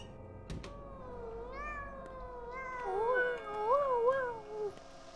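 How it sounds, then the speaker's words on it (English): A cat in Pathologic 2 gives a series of drawn-out, wavering meows, clear and close over a quiet background, growing louder toward the end. "when I hear a cat meow, I have to meow back"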